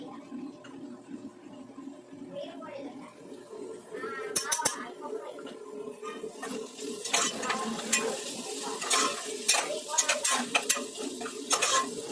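Onions fry in a pan with freshly crushed ginger-garlic for semiya pulao, a light sizzle under clinking stirring of a spoon against metal, growing busier with scraping strokes, while someone talks.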